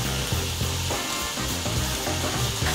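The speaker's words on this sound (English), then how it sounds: "let's render our bacon" Bacon sizzles steadily in a pan as it renders for a Filipino beef giniling, a loud continuous crackle with rhythmic scraping strokes as it is stirred.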